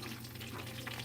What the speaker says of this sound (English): This thing is down low, but it's still sizzling fast.